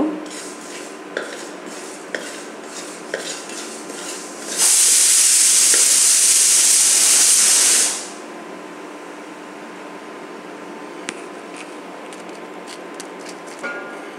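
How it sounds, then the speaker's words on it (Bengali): Whole coriander seeds dropped into hot oil in a pan burst into a loud, bright hiss for a few seconds, then settle into a quieter sizzle with faint scattered crackles and clinks. "প্রথমে আমি 2 চামচ মতো আস্ত ধনে নিয়েছি, সেটা দিয়ে দেবো এর ভিতরে। আমি কিছুক্ষণ ভেজে নেব।"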